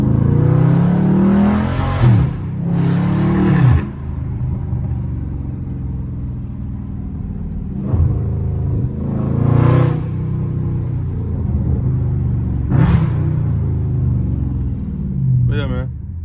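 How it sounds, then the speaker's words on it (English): A loud Dodge Scat Pack engine revs hard and downshifts repeatedly, with rising roars, sharp blips and crackling pops between gear changes, close and dominant throughout. "Downshifting POV, man."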